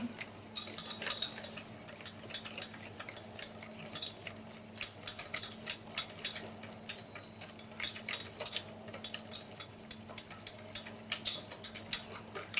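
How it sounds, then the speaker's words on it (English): A whisk beating a mixture in a bowl, making rapid, rhythmic metallic ticks in quick bursts with short pauses between them. The ticking stays quiet and steady, with no talking over it. "So you're gonna whisk it a little bit."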